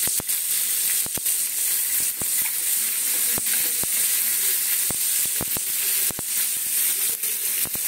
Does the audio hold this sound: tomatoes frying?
yes